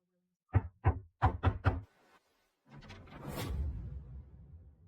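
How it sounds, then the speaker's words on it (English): Five sharp knocks rap on a door in a quick close series, followed after a short pause by a swishing rush of movement that fades out. "After leaving, I knock on the only door still willing to shelter me."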